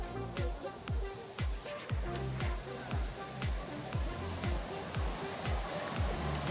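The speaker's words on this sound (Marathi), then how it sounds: "आणि हा झरा वाहतोय इथून." Tumalog Falls, a waterfall roughly 100 meters high, pours into a cold flowing stream, giving a steady close rush of falling water with rhythmic low splashing surges throughout.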